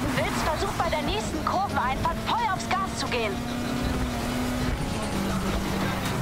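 A car engine revving hard while drifting in Need for Speed Heat, a steady, droning engine note running throughout, with someone talking over it.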